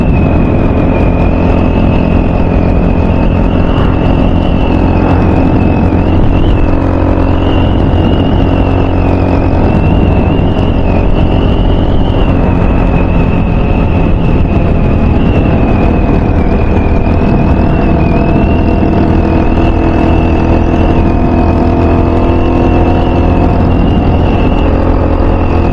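A Honda Hawk 250 motorcycle with a stock motor runs at steady speed, a loud continuous engine drone with a sustained whine and rushing wind, holding nearly constant pitch throughout.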